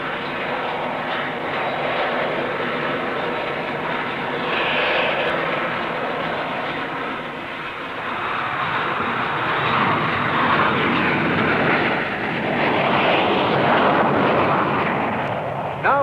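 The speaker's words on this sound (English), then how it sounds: "A gentle spot landing makes a fitting climax to this convincing demonstration of the VTOL fighter." A VTOL jet fighter comes in for a gentle spot landing at a 1960s Farnborough airshow, its engine roaring loudly and steadily throughout with a broad, rushing jet blast that swells and falls slightly.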